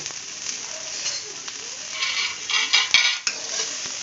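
Garlic stirred in a little cooking oil in a pan, with a soft sizzle under scraping and clinking of a utensil that builds toward the end, close by and without talk.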